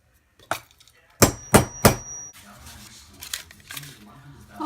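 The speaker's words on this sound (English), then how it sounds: "you want to use a fairly good hammer." Several sharp metallic hammer blows on a metal stamp for a bolo tie ring out close by, three in quick succession with a lingering ring, followed by lighter taps and handling noise.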